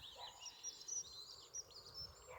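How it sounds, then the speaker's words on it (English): Faint bird chirps and calls at a rural ruin site, scattered brief tweets over a low outdoor background hum, distant and soft with no talking. "it's the sound of bird song that hits you first"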